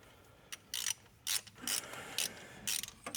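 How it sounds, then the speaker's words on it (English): Ratchet torquing down exhaust bolts, a series of short bursts of rapid clicking separated by pauses, close and fairly quiet with no talking. "I'm gonna torque them down"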